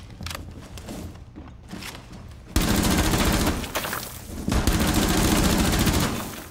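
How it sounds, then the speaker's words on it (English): Bursts of automatic gunfire from a Rainbow Six Siege match on the Consulate map, loud and close, with sustained rapid volleys that intensify partway through and continue almost without pause. "What are you shooting at?"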